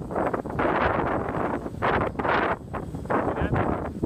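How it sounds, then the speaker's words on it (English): Strong wind blows outdoors and buffets the microphone in loud rushing gusts that surge and drop several times, with no voices over it. "It's very windy out."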